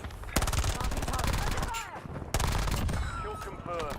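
Automatic rifle fire from a Warzone match rattles in two loud, close, rapid bursts, each a dense stream of sharp shots that fade into echoing tails.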